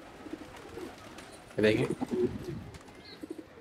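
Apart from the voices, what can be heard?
pigeons cooing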